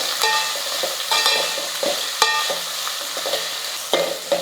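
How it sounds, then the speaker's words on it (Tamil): Salted onions sauté in a pan with a loud steady sizzle, broken by repeated spatula stirs and scrapes at an uneven pace, close up and with no voices. "இந்த வெங்காயத்துக்கு மட்டும் கொஞ்சமாக உப்பு சேர்த்துக்கிறேன் வெங்காயம் வந்து நல்லா வதங்கட்டும்"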